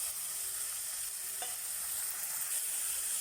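Onions sautéing in a pan, meant to go into a tomato thokku served with chapathi, give a steady broadband sizzle with a single brief stir scrape, no voices.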